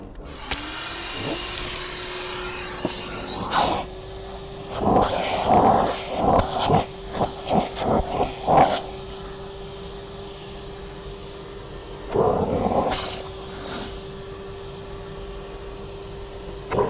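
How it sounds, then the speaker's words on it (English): A vacuum cleaner runs with a steady whine throughout while cleaning mold from car interior carpet, its pitch shifting as the nozzle works, with several louder bursts of sucking noise in the middle. "now I am going to suck this one by this machine. Yeah, start for the vacuum."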